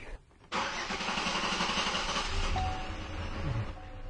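A car engine that had just stalled turns over and catches at once, then runs roughly at a low, uneven idle, close by, with a brief higher whine near the end.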